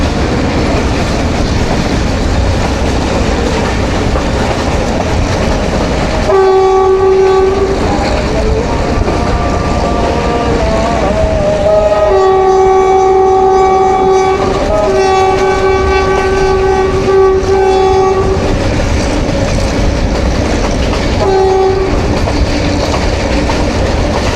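The Millat Express on the run to Khewra, wheels and carriages rumbling loudly and continuously while the train horn sounds in several long, steady blasts, some overlapping and one short final toot.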